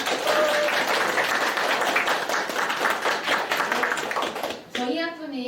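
An audience at a Korean school information session for the 2025 school year claps loudly and steadily to open the event. The applause fades out near the end, and a single voice then begins speaking.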